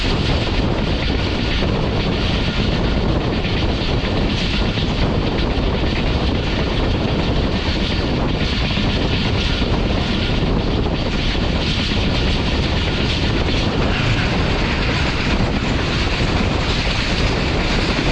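Jaffar Express passenger train rolling and slowing on its approach to Okara railway station at night, a steady loud rumble of wheels and carriage noise with wind buffeting throughout, no voices.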